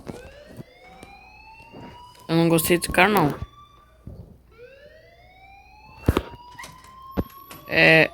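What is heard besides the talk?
alarm ringing in Life is Strange video game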